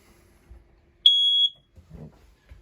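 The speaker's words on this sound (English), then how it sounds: "Right by this window, we've got your smoke alarm." A single short, high-pitched electronic beep from a smoke alarm in a 2015 Keystone Springdale travel trailer rings out clearly, followed by faint rustling and a soft thump.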